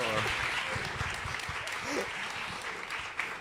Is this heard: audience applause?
yes